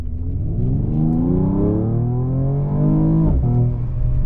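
A 2021 Mercedes-Benz E53 AMG pulls hard at full throttle, its engine note climbing steadily in pitch through the rev range with a brief dip at a gear change before rising again, loud and close, with no talk.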